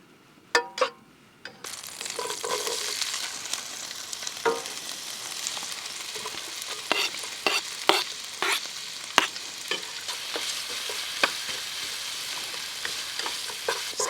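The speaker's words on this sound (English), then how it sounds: "bring some butter and olive oil to a sizzle, and then I'm going to saute my onions" Onions sautéing in a pan of sizzling butter and olive oil at a truck camper, a steady close frying hiss broken by repeated sharp stirring scrapes and clacks.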